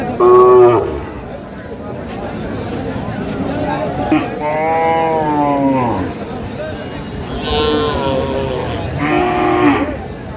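Cattle at a livestock market in Comilla moo in several loud, drawn-out calls, close by, with crowd chatter and voices bargaining underneath throughout.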